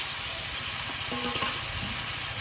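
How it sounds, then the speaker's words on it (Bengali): Marinated khoira fish goes into hot oil with tempering spices, setting off a steady, close sizzle and frying hiss with a few brief stirring clinks and no voices. "এবার মাখিয়ে রাখা খয়রা মাছটা দিয়ে দেবো"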